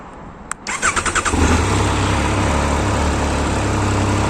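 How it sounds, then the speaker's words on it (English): A 2021 Triumph Speed Triple 1200 RS motorcycle starts up close by: a click, a quick chuffing crank, then the engine catches and settles into a steady, loud idle. "what we can do is start the bike up and see it running"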